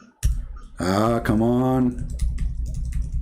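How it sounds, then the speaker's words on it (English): Keys on a faulty computer keyboard tap in a quick, light rhythm of clicks, close by, after a man's short exasperated exclamation. "I'm typing. You see, it's not working."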